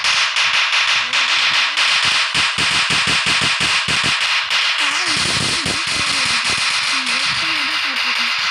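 String firecrackers in a Diwali crackers video game pop in a rapid, irregular crackling run over a constant loud hiss, with short bursts clustered near the middle and a voice talking in between.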